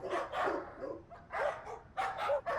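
Several dogs bark at night in a residential housing society, loud, close bursts of barking in an uneven rhythm with short pauses between volleys.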